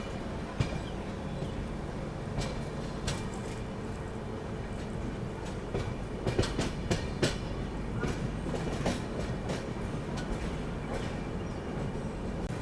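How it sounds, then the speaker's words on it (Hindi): A Rajdhani express train pulls out of Thiruvananthapuram station with a steady rumble and repeated clickety-clack of wheels over rail joints, heard from on board without letup. "अपनी ट्रेन का डिपार्चर हो चुका है।"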